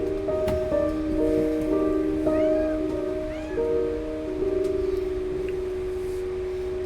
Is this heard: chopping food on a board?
no